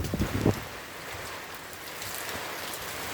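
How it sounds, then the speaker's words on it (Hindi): Rain falling over waterlogged fields outdoors, a steady broadband patter that runs evenly after a brief louder rustle at the start, near and moderately loud. "बारिश थोड़ा हल्का हल्का कम है।"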